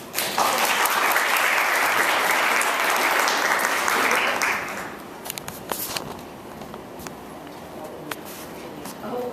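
A crowd claps loudly for about five seconds, welcoming a panel at a fashion event, then the applause thins out into scattered claps and rustling.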